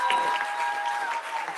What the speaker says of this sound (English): Another applause, please, for Nekima Levy Armstrong.